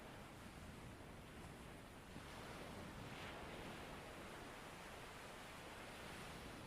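Soft, steady wash of surf on a beach, a low rushing hiss that swells slightly partway through, with no voices.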